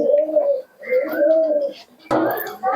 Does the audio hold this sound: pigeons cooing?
yes